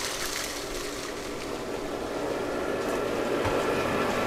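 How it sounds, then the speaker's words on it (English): A swimming pool pump runs beneath a waterfall, giving a steady, broad rushing hiss and hum with an even loudness and no pauses, heard alone without talk. "I'll just show you where that pool pump is"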